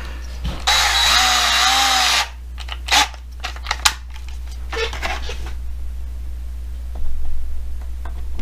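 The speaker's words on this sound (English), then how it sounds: "we still have to drill this out deep enough for the screws" A power drill bores out screw holes deep enough for screws in the posts of a Hot Wheels toy car. It gives one sharp, whining burst of about a second and a half, followed by scattered clicks, knocks and handling noises nearby.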